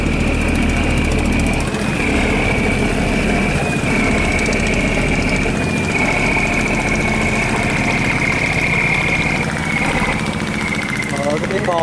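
The engine of a large trawler fishing boat at Kiên Giang runs as a loud, steady, close diesel drone with a constant whining tone on top, unbroken for the whole stretch.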